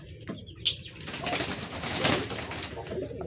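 An old domestic pigeon in its loft coos repeatedly beside two newly hatched chicks, soft and close, with a sharp click and some rustling near the start. No one speaks.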